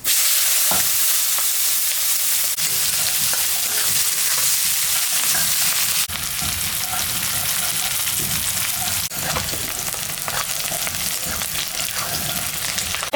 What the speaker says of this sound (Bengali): তেলের উপরে আর একটু তেল আমি দিলাম, জিরা, শুকনো লঙ্কা, সম্বরা দিলাম, পেঁয়াজটা আমি দিয়ে দিলাম।